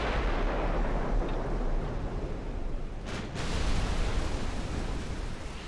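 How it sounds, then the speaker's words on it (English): A torpedo strikes a battleship in the naval game Ultimate Admiral Dreadnoughts, producing a sustained, heavy rumbling blast with a brief sharper burst partway through, loud and continuous with no speech. "Torpedo hit on the Provence."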